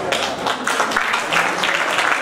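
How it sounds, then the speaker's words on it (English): A crowd applauds after a heartfelt congratulatory speech at a celebration. The clapping is brief, full and sustained, with many hands heard together at close range. "Big round of applause, please, ladies and gentlemen, for the surprise speech"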